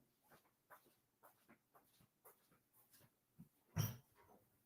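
Dogs in a room give quiet whimpers, yips and panting in short bursts, with one louder sharp yelp near the end, all fairly faint and close by.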